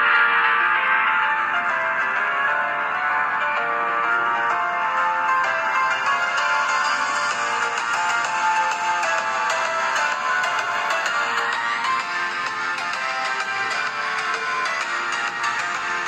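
An Infinix Smart 6 smartphone plays a ringtone through its built-in speaker. The melody is loud and continuous and runs unbroken for about sixteen seconds, with no talking.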